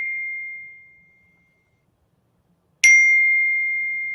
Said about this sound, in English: Can we turn silence notifications, please?